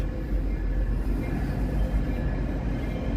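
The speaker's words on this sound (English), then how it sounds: "Let's see if we can catch the end of this train here." A train passes near the Chicago Riverwalk, a steady, loud low rumble with broad noise that stays even for the whole stretch, with no voices over it.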